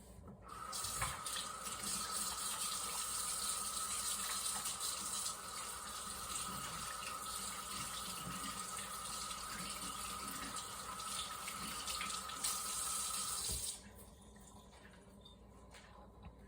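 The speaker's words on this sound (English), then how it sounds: "I'm going to wash my hands" Tap water runs steadily into a kitchen sink while hands are washed before kneading quick-rise bread dough, a close, continuous splashing rush that stops near the end, leaving a quieter room with a faint drip.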